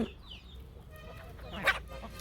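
A chicken clucks nearby in a few short, throaty calls, with a brief sharper squawk toward the end, over faint farmyard background noise.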